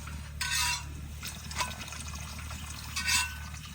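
Water poured into a simmering potato curry (aloo dum) in a village kitchen, two short splashing pours with a softer trickle between, faint and close over a low steady hum.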